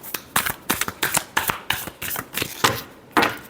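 A deck of tarot cards is shuffled by hand in a quick series of about a dozen crisp riffling bursts, close and loud with no talking.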